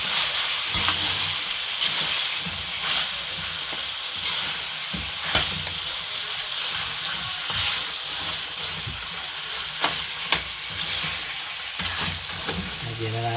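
Pork ribs sizzle and fry in a pan while being stirred with a spoon, giving a steady, close hiss broken by scraping clicks and knocks from the stirring.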